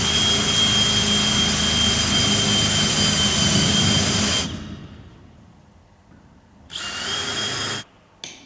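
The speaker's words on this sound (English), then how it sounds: "The mounting drill holes at the top and the front are then drilled." Power drill boring mounting holes into a Viessmann door sill during installation, a loud steady whine for about four seconds, then a fade, with a second short burst of drilling near the end.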